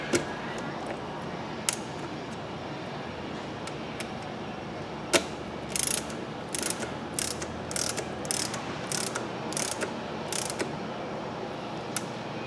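Bolts being tightened on a Yamaha YFZ450R quad during an engine build, steady clicking of a ratchet wrench in quick bursts close up over a constant background hum.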